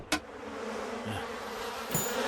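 Steady insect buzzing drones throughout, with a sharp click near the start and a brief rise in noise toward the end.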